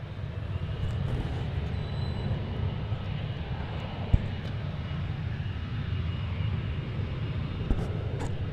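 Airplane engine roar at DFW airport, a continuous loud low rumble of a jet heard from the ground, steady throughout with a couple of faint clicks.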